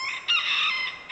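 Chickens in a garden give out a loud, near, drawn-out crowing call lasting about a second, standing alone over quiet surroundings.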